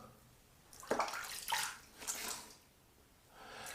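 Water splashes faintly in a few short bursts as shave soap is rinsed off, with quiet pauses between them.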